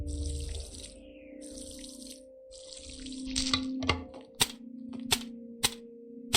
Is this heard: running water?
yes